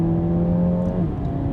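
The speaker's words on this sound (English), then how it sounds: "The thing is, you floor it and it does get up and go." 2018 Renault Megane RS with a 205 kW engine accelerating at full throttle, a loud, steady engine drone heard from inside the car that rises in pitch, then eases off near the end.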